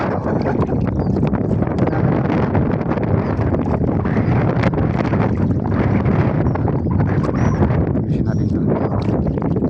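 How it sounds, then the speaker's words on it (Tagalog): Strong, steady wind blasts across the microphone at a fishing net, a loud continuous roar with gusty surges and a few faint voices underneath. "Grabe isang hangin guys."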